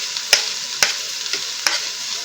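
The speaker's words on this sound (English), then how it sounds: "After doing that, I am going to put my onions in." Onions stirred and frying without oil in a pot for Ugandan chicken stew, a steady soft sizzle broken by a few sharp scrapes of the spoon against the pot, close and moderately loud with no talking.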